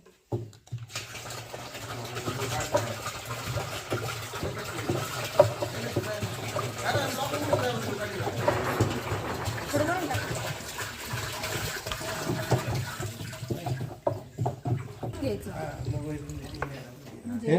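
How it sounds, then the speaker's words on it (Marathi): Five litres of cow urine pours steadily into water for several seconds, a continuous splashing gush with voices talking over it, while making jivamrut for natural farming. "आता पाच लिटर गोमूत्र हे टाकतं"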